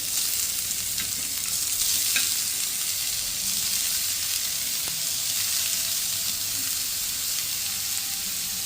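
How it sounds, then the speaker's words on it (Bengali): Banana flower with potatoes and poppy seed paste sizzles loudly and continuously in a pan, with a few faint clicks from stirring and no voices. "কলার ঠোঁটটা দিয়ে আরো খানিকক্ষণ ভালো করে নেড়ে চেড়ে কষিয়ে নেবে"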